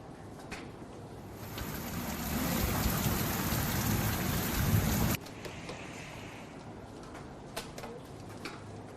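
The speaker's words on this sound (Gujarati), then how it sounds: "વીજળીના કડાકા ભડાકા સાથે ભાવનગર જિલ્લામાં વરસાદ પડ્યો" Rain falls in Bhavnagar district as a dense, steady hiss that swells for several seconds, then drops suddenly to a lighter patter with scattered drips; no voices.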